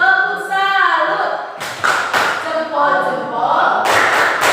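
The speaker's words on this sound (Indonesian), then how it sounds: "Kita berikan tepuk salut untuk teman-teman kita dari kelompok 1." A school class doing a rhythmic tepuk salut clapping cheer, bursts of hand claps and thumps mixed with chanting voices, loud and close.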